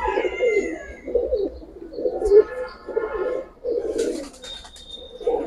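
Kaldom pigeons coo close by in a regular rhythm of low throaty pulses about every half second to second, with a brief higher chirp and a thin whine near the end.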